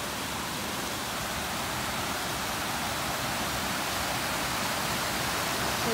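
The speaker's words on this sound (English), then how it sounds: "The water coming down." Thornton Creek rushes beneath a trail bridge in the North Cascades, a constant broadband roar of fast mountain water, close and steady with no other sounds.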